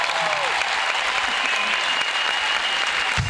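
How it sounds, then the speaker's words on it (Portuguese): Concert crowd in Luanda applauding as the show begins, a loud, dense and continuous wash of clapping filling the whole stretch, with faint cheering mixed in. "o show começou na plateia com aplausos"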